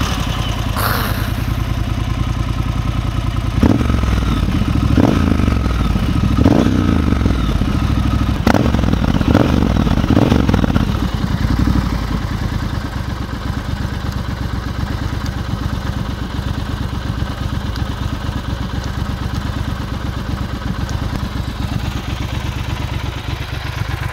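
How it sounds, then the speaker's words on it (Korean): A Triumph Scrambler 1200 motorcycle engine cranks and fires up, blips a few times, then settles into a steady, throbbing idle, recorded up close with no talking. "시동 소리 한번 들어볼까요?"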